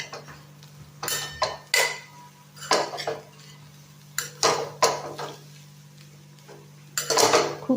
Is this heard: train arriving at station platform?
no